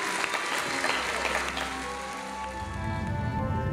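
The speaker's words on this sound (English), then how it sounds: "Let's get another round of applause for this beautiful couple." Guests at a proposal celebration applaud a newly engaged couple, a dense, continuous patter of clapping heard over a sustained musical backdrop.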